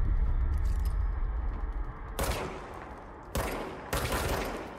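The Service Weapon firing in the video game Control, heard as three separate loud bursts of rapid gunfire over a heavy rumbling game background.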